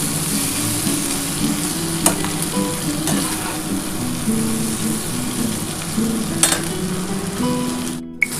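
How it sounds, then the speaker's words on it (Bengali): Potato and eggplant slices frying in katla fish oil, with a steady close sizzle and occasional stirring scrapes and clinks throughout, no voices. "মাছের তেলটার সাথে আমি একটু ভালোভাবে একটু ভাজা করে নিই, একটু নাড়াচাড়া করে আমি নামিয়ে নিচ্ছি।"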